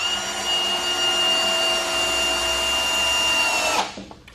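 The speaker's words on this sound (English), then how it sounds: "it don't have the butt to run these screws in and just drive them in like this M18 does here" Milwaukee M18 cordless drill driving screws into wood for a deer blind, a steady close high-pitched whir held for about four seconds before it stops.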